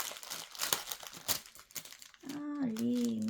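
Plastic packaging crinkles around cross-stitch thread during an unboxing, brief rustles under a voice, followed by a steady hum or voice-like drone near the end.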